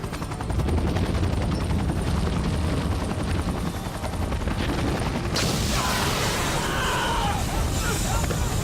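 A helicopter hovers loudly and continuously in a sci-fi action disaster scene, its dense rotor chop and engine roar filling the whole stretch, with bursts of gunfire-like impacts and shouted voices mixed in.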